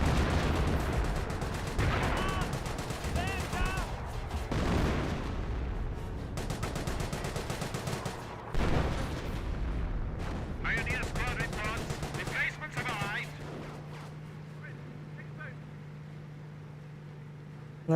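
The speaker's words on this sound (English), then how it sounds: "25-pounder barrage" A 25-pounder artillery barrage and small-arms gunfire in the Company of Heroes 1 strategy game, with continuous battle noise, booming impacts and rattling shots, gradually thinning toward the end.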